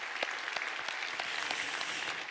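A congregation applauds in thanks at a year-end church service after newly appointed officers are installed, a continuous even rush of many hands clapping with a few sharper claps rising out of it.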